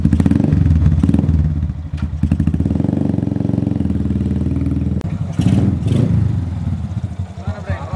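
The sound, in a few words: custom Indian bobber motorcycle engine starting and running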